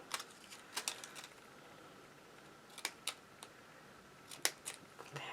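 Scissors snipping apart connected paper card pieces during card making: quiet, scattered crisp snips in small clusters over a soft background hiss.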